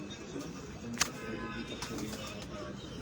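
Pigeons coo softly and steadily in a loft, a low murmuring drone with a brief flutter or clap, close by under faint human voices.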